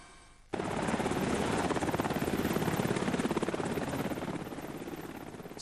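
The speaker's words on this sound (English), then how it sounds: "Some people were rescued by helicopter." A loud, close rescue helicopter after an earthquake in Japan, with rapid rotor thumping, starts suddenly and holds steady, fading slightly toward the end.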